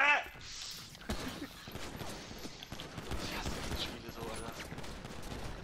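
Bursts of GTA V Online gunfire crack and rattle in quick succession, mixed with mechanical clatter and a voice talking over the action.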